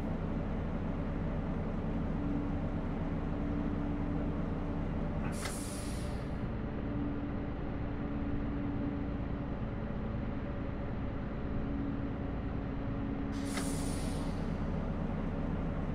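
A RegioShuttle RS1 railcar in the Train Simulator 2 game runs steadily with a continuous low rumble and engine drone, and two short bright hissing bursts, likely brake or air releases, sound about eight seconds apart.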